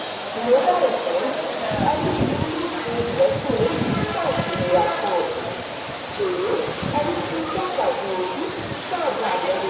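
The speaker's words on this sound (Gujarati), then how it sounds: "બહુ ધોધમાર વરસાદ પડી રહ્યો છે બોટાદમાં." Heavy monsoon downpour in Botad, Gujarat, a continuous dense hiss of rain on surfaces, with a nearby voice talking over it throughout.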